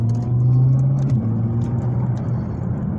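A car accelerating on the Kraków race track, its steady mid-pitched engine drone holding close and loud with a slight rise in revs, no voices over it.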